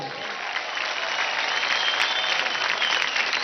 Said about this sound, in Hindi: एक बार जोरदार तालियां हो जाए शंभू के लिए